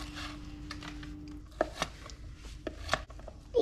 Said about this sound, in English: come back to the cutting board and chop up your barbecue Chinese pork